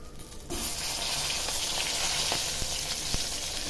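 Four pieces of fish fry in hot oil in a home kitchen pan, a steady close sizzle that rises sharply after a quiet start and continues with small pops and crackles.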